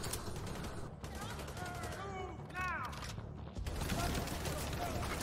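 Bursts of rapid gunfire crackle in The Division 2 shooter, sustained automatic volleys broken by a short pause, with voices talking between the shots.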